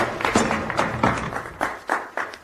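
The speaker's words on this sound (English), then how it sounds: "Applause for the Russian hero." Brief applause for the Russian hero in a Dad's Army radio comedy, a small group clapping unevenly for a couple of seconds, close and fairly loud.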